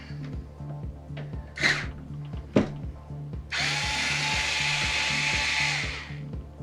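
Inside a PC, a screw on a graphics card bracket is backed out with a power driver: a low rattling hum with two short whirs, then one longer steady drilling whine, all close up and without talk.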